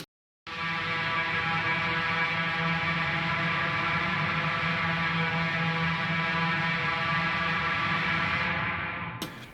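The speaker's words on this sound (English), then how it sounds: "I have a very simple dissonant chord that kind of drones over top of everything" A sustained, distorted electric guitar chord on the mid-gain amp of Neural DSP's Archetype: Rabea plugin, with a dissonant, droning quality, rings steadily for several seconds, then cuts off abruptly.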